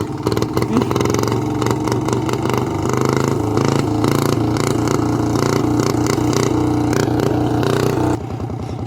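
A farm tractor engine with a knock, blowing oil out through its intake, runs loud and steady with dense mechanical clatter and rough rhythmic pulsing, then drops abruptly in level near the end.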